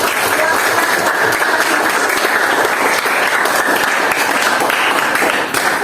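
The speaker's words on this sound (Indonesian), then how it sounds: "Beri aplaus untuk semua kelompok" A room full of people applauding all the presentation groups after a classroom guidance session, a loud dense clapping that stays steady throughout with no break.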